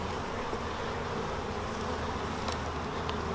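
Honey bees hum steadily at an opened nucleus colony hive during a frame inspection, a dense, continuous close-up drone with a few brief louder buzzes passing near.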